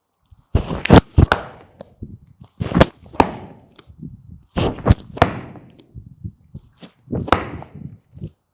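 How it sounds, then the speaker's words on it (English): A medicine ball is slammed down on a gym floor, giving four loud, sharp thuds spaced about two seconds apart, each followed by a short bounce. "So when you do it, you're going to stretch up with the ball and then slam down."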